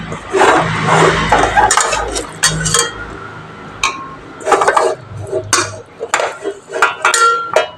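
Clams are tipped into a pressure cooker for a Kerala clam roast, their shells clattering and clinking against the metal pot in a series of close, sharp bursts with short pauses between.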